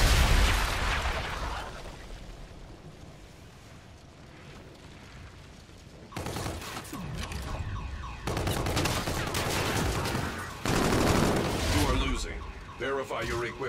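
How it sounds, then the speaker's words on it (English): Friendly artillery bombardment in Call of Duty: Infinite Warfare, loud booming blasts and crackling bursts arriving in separate heavy waves after a quieter stretch, with game voice announcements mixed in. "Friendly bombardment incoming."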